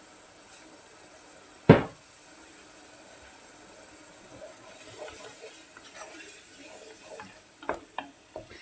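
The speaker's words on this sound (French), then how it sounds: "On fait revenir les oignons" Onions and garlic frying in a pan give a faint continuous sizzle, broken by one sharp clack near the start and a few light utensil taps toward the end.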